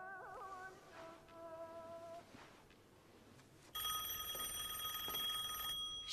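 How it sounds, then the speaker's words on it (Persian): A telephone rings indoors in a drama scene, a trilling electronic ring repeated a few times, then a louder, brighter bell-like ringing takes over for the last couple of seconds. "تا اسمشو آوردی زنگ زد"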